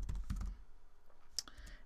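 Quick bursts of typing on a computer keyboard, a cluster of close key clicks followed by a pause and a few more scattered taps, fairly quiet.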